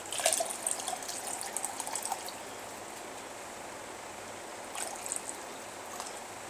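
Water poured into an acid mixture for treating a knife, a short gushing splash at the start, a quiet trickle, then another brief pour near the end.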